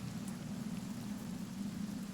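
Rain spell cast in the video game Divinity: Original Sin Enhanced Edition, a steady hiss of falling rain with a low rumbling band, continuous and fairly quiet throughout.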